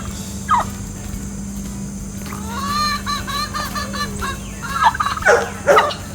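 Two farm turkeys, one outside a fence and one inside, gobble in warbling rattled bursts with a few sharper calls, heard at moderate distance in an open outdoor setting with a steady background hum.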